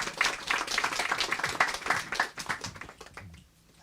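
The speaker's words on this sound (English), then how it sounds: "Another round of applause." Audience applause from a crowd at a talk, dense clapping that holds steady for about three seconds and then fades out.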